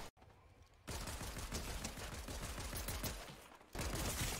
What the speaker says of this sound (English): That motherfucker sniped me.